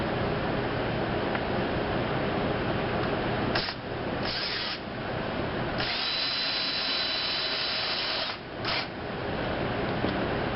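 A power drill drives drywall or deck screws with small rubberized coverings into a wooden birdhouse, whirring steadily and loudly for most of the stretch, with brief pauses between screws and no talk.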